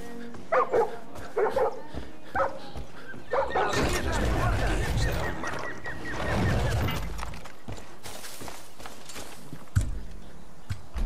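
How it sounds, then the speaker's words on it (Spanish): A dog in Far Cry New Dawn gives a few short barks and yips early on, then people talk over a rumbling game backdrop while faint whimpers and bark-like bursts continue. "perro tan majo"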